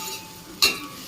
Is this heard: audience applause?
no